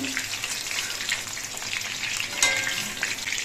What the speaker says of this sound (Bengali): মোচার এই পিসগুলো আমি দু পিস উল্টে পাল্টে ভেজে নিচ্ছি